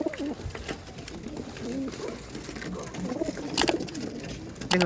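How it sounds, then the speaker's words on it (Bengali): Pigeons of a Punjab breed coo softly and steadily in a loft, their low, repeated calls blending with faint rustling and a few sharp clicks. "সমস্ত পায়রাগুলো দেখুন"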